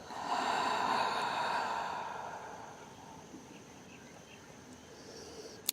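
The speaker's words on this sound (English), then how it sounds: "Open your mouth and exhale." A long, soft breath let out through an open mouth during a gentle yoga flow, a breathy exhale that swells and fades over about two seconds, followed by quiet room tone.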